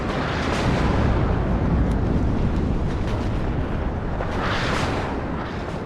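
Heavy artillery barrages in the WARNO real-time strategy game roll on as a continuous dense rumble of overlapping distant explosions, loud and steady throughout with no talking.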